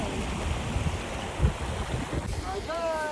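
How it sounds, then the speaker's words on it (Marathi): A stream flows past village fields during rice transplanting, its steady broadband rush mixed with wind buffeting the microphone, with a faint high whistle-like tone near the end. "खूप सुंदर असा ओढा आहे"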